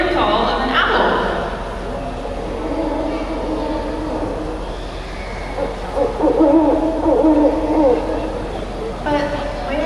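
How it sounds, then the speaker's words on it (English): Owl hooting heard at a night safari wildlife amphitheater, calls ringing out across a noisy, reverberant space alongside a loud speaking voice and other background sound. "it's the familiar call of an owl"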